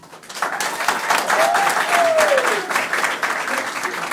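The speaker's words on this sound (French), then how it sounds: "Nous allons une fois de plus applaudir très fort pour le futur couple." Wedding guests applaud the engaged couple, sustained clapping from a crowd, with a voice and some cheering briefly rising above the noise midway.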